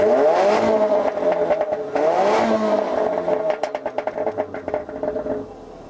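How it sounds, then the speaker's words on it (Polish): A 2015 Land Rover Discovery Sport engine is revved twice in quick succession, each rev rising and falling smoothly, then the engine settles into a rough, pulsing idle that fades toward the end. "to posłuchajcie przynajmniej, jak brzmi silnik"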